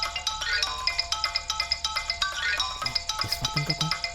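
An electronic phone ringtone chirps in a steady repeating rhythm for an incoming call, clear and fairly close, with a few soft knocks near the end and no voices.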